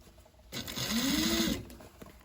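A sewing machine runs a single short burst of about a second while stitching the seam of a bag, whirring up and then winding down close by, with quiet handling before and after.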